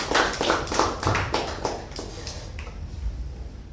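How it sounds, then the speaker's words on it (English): A meeting audience claps for a Toastmaster, a burst of many hands loud at first and then tapering off over a few seconds, with no talk over it. "a big round of applause for Toastmaster Karthik"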